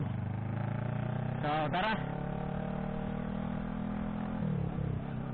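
Motorcycle engine drone while riding, recorded through a motovlog helmet microphone setup with wind noise; steady, fairly close hum running throughout, with a brief louder burst partway and a short spoken phrase over it.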